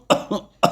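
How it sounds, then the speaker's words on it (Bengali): A man coughs three times in quick, harsh bursts, close and clear, in a ghost story scene where a sleeping man wakes coughing. "কিছুক্ষণ পর ঘরের একপাশে ঘুমিয়ে থাকা সেই লোকটার কাশি শুরু হলো"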